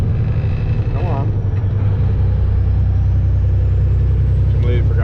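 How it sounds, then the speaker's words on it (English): A truck engine brake on a snowy road produces a loud, steady low droning rumble with a rhythmic pulsing undertone, continuous throughout, with brief voice-like tones over it. "Completely forgot that you had the engine brake on."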